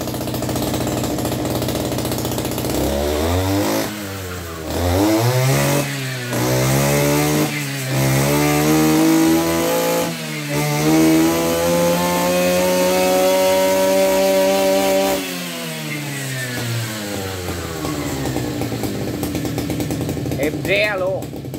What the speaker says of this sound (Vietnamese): đụng đụng cái tay ga là nó đã quay rồi nè